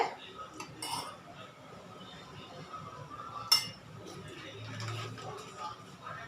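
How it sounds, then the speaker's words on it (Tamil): A metal tawa is set on a kitchen stove for oil, producing scattered light clinks and one bright metallic clank, with a voice talking quietly underneath. "அடுப்பில் ஒரு தவா வச்சுட்டு அதில் லைட்டாக எண்ணெய் விட்டுருங்க"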